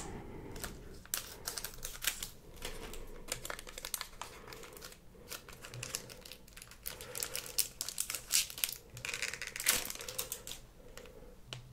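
A Pokémon booster pack being torn open and its foil wrapper crinkled up close, a steady stream of soft crackles, rustles and sharp crinkly snaps over about twelve seconds, quiet and intimate with no talking.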